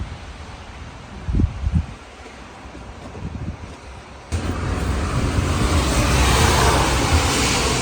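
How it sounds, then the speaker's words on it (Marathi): A steady roar of strong wind and rain shaking trees rises suddenly and stays loud, after quieter rustling with faint knocks. "पाऊस आणि इतका जोराचा वारा पण आहे त्याच्यामुळे सगळी झाडं इतकी जोरजोर हलत आहे ना"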